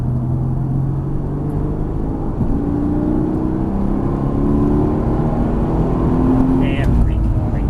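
Mercedes-AMG GT S engine droning steadily as it accelerates around a race track, a continuous loud rumble with rising tones, while an instructor talks over it throughout.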